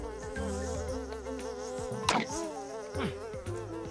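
Several flies buzzing close by, wavering whines rising and falling continuously, with a few louder passes sweeping near the listener.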